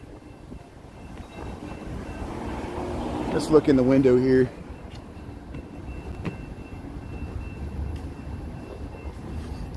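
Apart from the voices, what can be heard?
train backing up near old railroad depot, Spring, Texas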